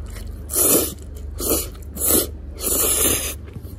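Someone eating cold ume plum pasta with eggplant, with four close bites and crunchy chewing sounds spaced about a second apart in an otherwise quiet room.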